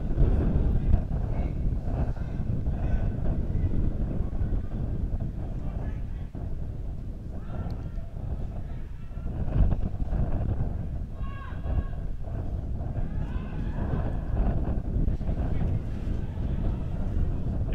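Steady blustery wind roars across Forthbank Stadium in Stirling during a football match, broadband and constant, with faint crowd-like murmurs and brief thumps beneath it.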